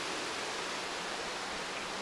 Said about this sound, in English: There's a mini waterfall.